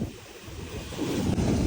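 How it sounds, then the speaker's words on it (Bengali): Sea waves roll onto a beach on a windy day just after rain, a brief, loud, rushing surge of surf mixed with gusty wind buffeting the microphone. "আজকে গর্জন কম, কিন্তু পানির অনেক ঢেউ দেখেন"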